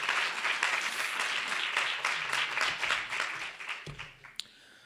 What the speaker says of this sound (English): let's give her another round of applause just to appreciate her and thank her